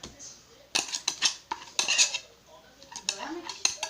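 Dough being put into a cold dish, with metal pots and utensils clattering and scraping in sharp close clusters of knocks and clinks, separated by short pauses.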